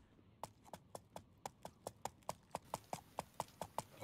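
Steady clip-clop of horse hooves, about a dozen evenly spaced hoofbeats at a walking pace, fairly close with a quiet background.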